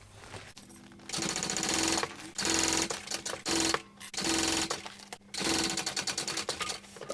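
Sewing machine basting a seam on a bag, stitching in several quick rhythmic bursts separated by short pauses, close and clear with no talk.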